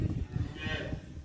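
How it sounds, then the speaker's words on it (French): A cow lets out a single short, fairly close moo on a farm pasture where calves are nearby, brief and low against a quiet outdoor background. "Ah, les petits veaux, ils sont là-bas, regarde."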